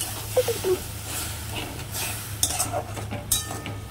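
Spice paste with powdered chilli, tomato and a little water being sautéed in a pan, a soft steady sizzle under intermittent scraping and clinking of a stirring spoon, close by.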